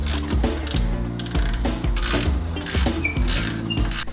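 A ratchet clicks in quick runs while brake calipers are bolted onto a wrecked Mk8 VW Golf R, the close metallic ticking sitting over a steady low background hum.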